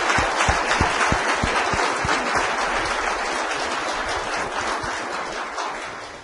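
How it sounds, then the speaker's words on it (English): An audience at a city council meeting breaks into sustained applause, dense and loud, with a few sharper individual claps near the start before the sound slowly tapers. "I'd like to give them a round of applause if you don't mind."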